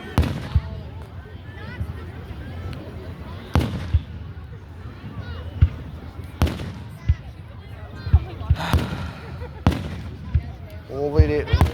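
Canada Day town fireworks go off in a steady series of loud booms and cracks, spaced every second or two, echoing outdoors with voices murmuring underneath.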